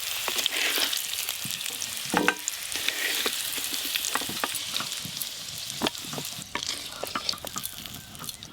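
Potatoes frying in hot mustard-free oil in a clay pot, a steady crackling sizzle with frequent sharp pops and stirring clatter, close and fairly loud throughout with no talking.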